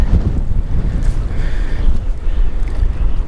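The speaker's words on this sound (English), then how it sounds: "Just need that wind to calm down a bit" Strong wind buffets the microphone while bass fishing from a boat on open water, a loud steady low roar with gusty surges and no talking.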